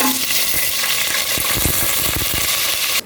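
Whole dry spices fry in hot oil in a pan: bay leaves, black peppercorns, cinnamon sticks, cloves and cardamom pods. The sizzle is loud and continuous, with a few clicks and stirring knocks in the second half and a short drop at the end.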